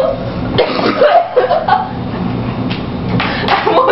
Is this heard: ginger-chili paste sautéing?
no